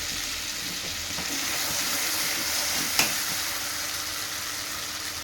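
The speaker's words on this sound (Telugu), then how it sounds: "మసాలా ఫ్రై కావాలి కొంచెం అల్లం" Masala with ginger fries in a pan for a chicken dish, giving a steady, close sizzle that runs unbroken throughout, with one brief utensil clink midway.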